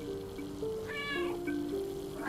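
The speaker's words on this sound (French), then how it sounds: "Il est vraiment trop mignon ce chat." Cat meowing in the video game Stray, with a couple of short rising meows over a steady background hum and tonal game ambience, close and moderately clear.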